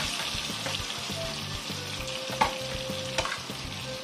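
Eggplant omelette (tortang talong) frying in a pan, giving a steady close sizzle with a few small pops and stirring scrapes, with no voices.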